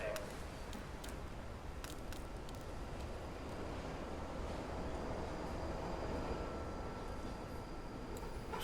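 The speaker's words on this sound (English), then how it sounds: "I shall make my way onto the train. Doors closing." A train pulls away in the Fallout London video game, a steady low rumble and hiss filling the scene at a constant level with faint clicks above, heard alone without talk.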